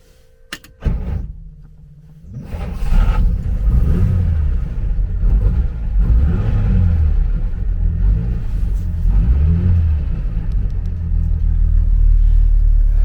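A Maserati 3500 GTi six-cylinder engine cranks and catches, then settles into a deep rumbling idle with several rising and falling revs, loud and close, no voices.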